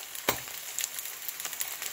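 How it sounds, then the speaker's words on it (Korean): Grated potato pancake batter with clam meat frying in hot oil, a steady close crackling sizzle with a few sharper pops throughout. "지글지글 바글바글 감자전이 맛있게 되었습니다."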